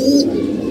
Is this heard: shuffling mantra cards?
no